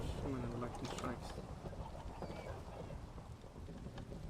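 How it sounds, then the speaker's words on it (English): A Minecraft thunderstorm fills the scene with dense rain hiss and rolling thunder from repeated lightning strikes, the rumble loud and continuous from start to finish. "Oh my gosh, so many lightning strikes."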